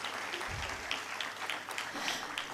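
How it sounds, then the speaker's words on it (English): Parents in a school audience applaud at a cultural event, a steady wash of many hands clapping close by in a large hall, with no talking over it. "which really requires a very big round of applause"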